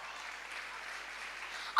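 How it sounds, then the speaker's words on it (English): At a school annual day, an audience claps in a soft, distant patter that swells sharply louder at the very end. "Let us give a huge round of applause."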